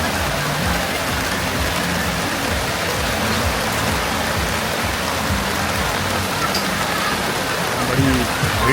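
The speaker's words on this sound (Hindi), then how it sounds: "अभी लगता है कि बड़ी ज़बरदस्त बारिश हो रही है।" Steady, dense rain hiss fills a crowded Osaka city street, loud and close, with faint low rumbles and murmurs beneath.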